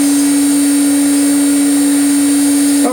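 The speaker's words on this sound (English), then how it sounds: "I've actually just turned the spindle on" QueenAnt CNC router spindle running steadily with a strong sustained tonal whine and broadband hiss, loud and close, alone without talk throughout.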